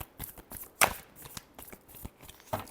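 Tarot cards are shuffled by hand in a quiet room, a series of soft riffling and tapping bursts with one sharper snap, close and faint with no voice.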